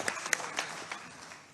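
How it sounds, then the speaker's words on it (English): Brief, faint scattered clapping from a conference audience at a UN panel, a few sparse claps in a quiet room that fade out quickly. "a great hand of applause for them as well"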